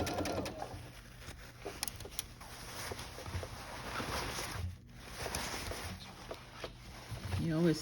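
A sewing machine stitches a sleeve into a garment in a continuous steady whir, fairly quiet and close, with a brief pause partway and some handling noise.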